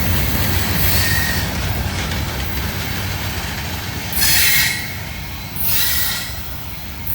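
A heavy CSX freight train rolls past on the track, with a loud, steady rumble of wagons, grinding wheels and bursts of high wheel squeal, heard nearby with no talking.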